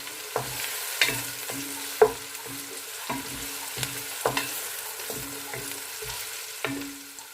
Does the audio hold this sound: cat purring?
no